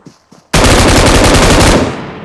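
Sustained automatic gunfire in the mobile battle-royale game PUBG Mobile, a loud rapid burst starting abruptly after a couple of faint short sounds and running continuously for nearly two seconds.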